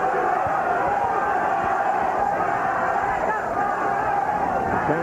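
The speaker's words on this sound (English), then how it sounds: "A chance of Chavez from the crowd." Boxing arena crowd chanting for Julio Cesar Chavez during his fight with Willy Wise, a dense, continuous roar of many voices at steady loudness, with a commentator talking over it.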